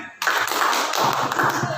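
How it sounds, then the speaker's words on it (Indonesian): A class of students claps together during a classroom lesson: a sudden burst of dense, continuous clapping starts almost at once and stays steady and close for the rest of the moment. "Oke, tepuk tangan."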